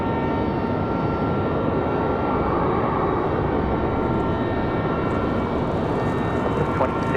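An airliner's engines roar steadily and broadly at Raleigh Durham airport on a windy day, filling the scene evenly throughout with no clear rise or fade.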